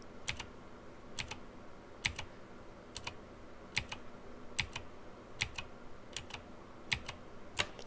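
Computer keyboard keys pressed one at a time for an undo shortcut in Photoshop, about ten crisp separate clicks at an even, unhurried pace, close and fairly quiet against a soft room background.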